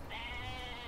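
Goat in the video game Atelier Ryza giving one sustained, wavering bleat, clear and moderately quiet, with no voices over it.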